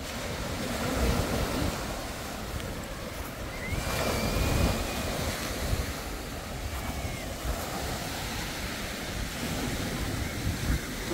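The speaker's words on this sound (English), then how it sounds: "Well, I love the sound of the waves." Waves wash against a rocky Lake Ontario shoreline, with steady surf rolling in and out under gusts of wind buffeting the microphone.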